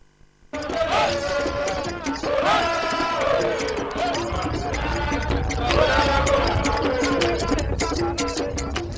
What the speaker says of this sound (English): Fans trooped to the venue to cheer the players on